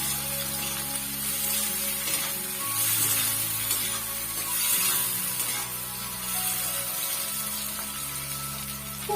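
Capsicum frying in a little oil, a continuous bright hissing sizzle that swells and eases over several seconds, with a low steady hum underneath.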